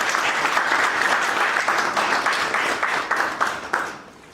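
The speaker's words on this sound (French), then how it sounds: "que je vais vous demander d'applaudir" Audience applause at an international professional graduation ceremony in Lomé, Togo, greeting the institute's CEO: dense, steady clapping from a large crowd that holds for several seconds before thinning out at the end.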